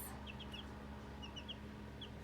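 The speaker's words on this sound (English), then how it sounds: "Here's an update on our little chickies." Baby chicks in a brooder give a few faint high chirps and peeps in short scattered clusters. A steady low hum sits beneath them.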